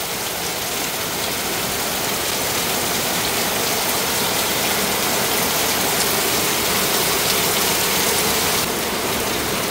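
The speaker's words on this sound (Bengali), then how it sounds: "গতকাল থেকে বৃষ্টি এই থামে, এই আবার শুরু হয়।" Steady, dense rain pours down without pause, a continuous hiss of drops hitting surfaces all around, loud and close, with no voices.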